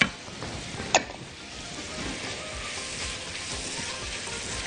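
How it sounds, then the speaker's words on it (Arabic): Sausage sizzling and sautéed with onions in a pan, a soft, steady crackle of frying with a sharp clatter near the start and another around one second, no talk. "هنزل بالسوسيس الاول واشوحه بعد ما خلاص اتاكدت ان البصل كده دبل"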